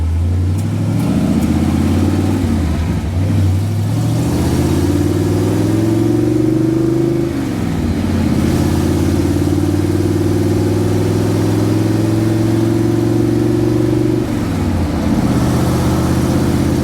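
A 1929 Ford Model A hot rod shop truck drives along on the road, its engine droning loud and close, revving up through gears with brief dips between shifts and a steady pull in between.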